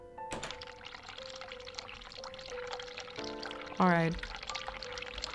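Water pours in a hospital scene in the video game The Cat Lady, a short splashing pour rising in pitch for under a second over quiet background music, with a voice speaking briefly beforehand.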